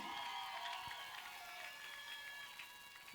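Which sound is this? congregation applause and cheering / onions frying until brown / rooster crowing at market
congregation applause and cheering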